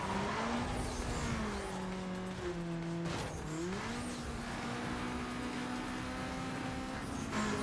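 A rally car in Need for Speed: Most Wanted drones steadily at high revs, the engine pitch dipping briefly at a gear change near the middle before climbing and holding, loud and continuous with faint tire noise.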